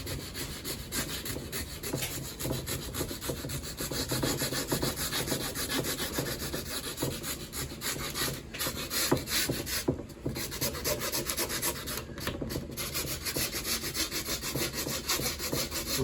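Exposed fiberglass and epoxy on a small wooden boat build being roughened by hand, a steady close rasping scrub that continues for many seconds without talk.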